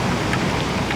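Steady, dense rain pours down continuously, a broad hiss with scattered droplet patter and no voices.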